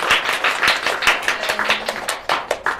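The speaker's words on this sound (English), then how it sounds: "a round of applause for my" A small audience applauding at a panel discussion, distinct, fairly close claps with sharp individual hand strikes, uneven in rhythm and fading toward the end.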